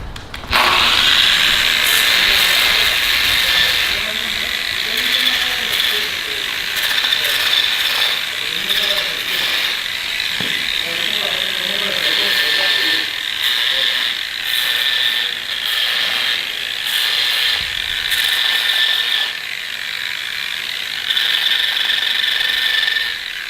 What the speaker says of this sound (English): we're gonna sand these down so we have a nice smooth surface to put the gold glitter down on